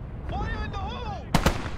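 A grenade explosion in the WWII game Gates of Hell: Airborne, a sudden loud double blast near the end, following a shouted warning voice over low battlefield rumble.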